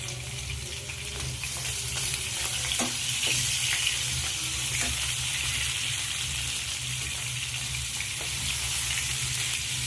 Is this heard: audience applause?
no